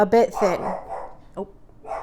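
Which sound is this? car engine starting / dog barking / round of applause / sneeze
dog barking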